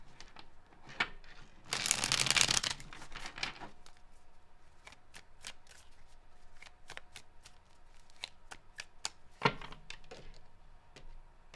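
Close-up tarot card shuffling: a loud riffling burst, then a steady run of soft snaps and taps as cards are cut and shuffled again.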